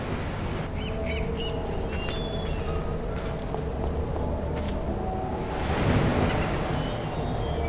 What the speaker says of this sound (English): A usually calm place where the haunting sound of the waves punctuates your day.